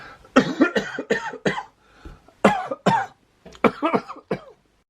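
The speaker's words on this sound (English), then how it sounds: "That was a terrible coughing fit." A series of harsh, repeated coughs in bursts, close and loud, with short pauses between fits and some throat clearing.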